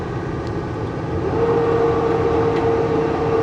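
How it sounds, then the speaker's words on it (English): A truck engine's cooling fan kicks on partway through a drive on Rogers Pass, adding a steady rising whir over the low engine drone, growing louder and holding at a constant tone, with no talk. "There's some of you saying how loud the fan is on this truck."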